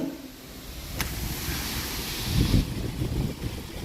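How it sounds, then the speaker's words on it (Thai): Very strong wind roars outdoors at night, a loud, continuous broadband rush with gusting surges and buffeting against the microphone, no talk. "โอ้นี่มันอภิมหาลมนะทุกท่าน"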